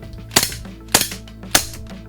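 A GHK Glock G34 airsoft gas pistol with a steel slide firing BBs, three sharp close reports spaced about half a second apart, each with a brief clattering tail.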